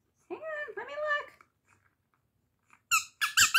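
A Bark-A-Boo dog toy squeaks in a few sharp, close bursts near the end, following a stretch of talking and a quiet pause.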